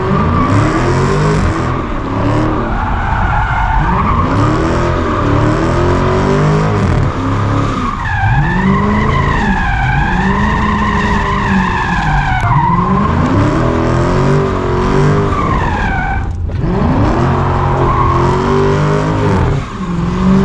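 A Dodge Challenger SRT on a canyon road skids with loud, sustained tire squeal over a roaring, revving engine whose pitch rises and falls in repeated sweeps for about twenty seconds.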